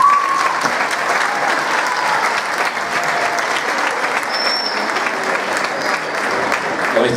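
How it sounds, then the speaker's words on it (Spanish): Audience at an awards ceremony applauds steadily for several seconds, a dense, even wash of clapping from many hands filling the room. "Un aplauso para él."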